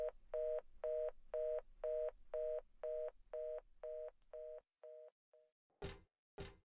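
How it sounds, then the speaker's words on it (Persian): A telephone dial tone in the Silent Hill 3 video game after the phone is hung up: a repeating pulsed tone, about a dozen even beeps that fade out, then two sharp clicks. "در انتها بار دیگه تولد هدر رو تبریک میگه و تلفن رو قطع میکنه"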